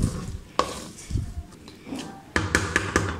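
Peanuts tipped into hot jaggery syrup and stirred for chikki, with scraping spoon strokes, metallic clinks against the pan and a faint sizzle, ending in a run of rhythmic taps.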